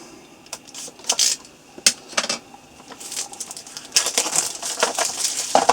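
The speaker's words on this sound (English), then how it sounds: "Let's open the dice and see what they are like." Plastic and cardboard packaging of a set of dice from a Traveller commemorative pack being opened up close: irregular crinkles, snaps and rustles with short sharp clicks, getting busier toward the end, no talking.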